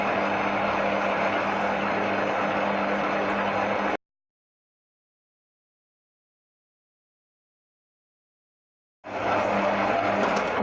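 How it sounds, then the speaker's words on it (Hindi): A Kenwood MultiOne mixer kneads pizza dough with its spiral hook at minimum speed, giving a loud, steady motor whir that stops abruptly for about five seconds, then starts up again. "इसकी स्पीड मिनिमम से स्टार्ट करेंगे इसको।"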